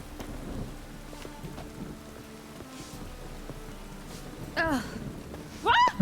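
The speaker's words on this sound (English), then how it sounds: "It only ever rains these days." Rain in the video game The Witcher 3, a soft, steady wash of falling drops with low rumbling underneath, joined by brief voices toward the end.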